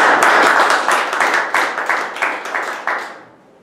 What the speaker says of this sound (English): Fellow Toastmasters, let's have a loud round of applause.